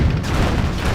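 Dense battlefield gunfire from the Command & Conquer Generals USA campaign, a continuous loud rumbling volley of shots and booms over one second with no break.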